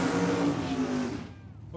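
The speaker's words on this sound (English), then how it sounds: "That's a drag race." Drag racing cars launch hard at Tucson Dragway, a loud roaring engine burst fading away after about a second as the cars pull off down the strip.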